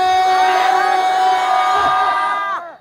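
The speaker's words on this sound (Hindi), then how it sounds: "पूरा मजमा हाथों को उठा के कहे या रसूल अल्लाह" A large gathering at an Islamic religious sermon gathering in Rajmahal, Jharkhand, chants loudly in unison with raised hands, a sustained, loud, closely miked collective cry that ends abruptly after nearly three seconds.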